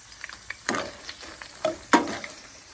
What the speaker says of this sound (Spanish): se están aquí dorando los chilitos